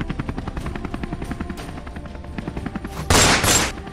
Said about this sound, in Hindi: हेलीकॉप्टर से गोली चली।